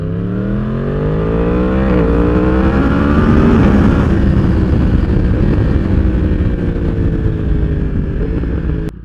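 A Yamaha R1 sport bike fitted with an aftermarket exhaust is ridden. Its loud, close engine note climbs steadily through the revs, drops back, then rises again, with a throaty exhaust tone running continuously and no voices.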